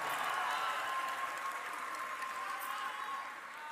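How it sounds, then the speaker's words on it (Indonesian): An audience at an Indonesian reform anniversary gathering applauds for reform fighters, continuous moderately distant clapping that tapers slightly toward the end. "Tepuk tangan untuk para pejuang reformasi kita."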